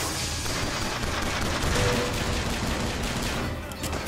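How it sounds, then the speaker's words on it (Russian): Sustained gunfire aimed at the player in the Bioshock Infinite video game, a dense, continuous rattle of rapid shots that stays loud and close throughout, with nothing else breaking through. "Кто по мне стреляет?"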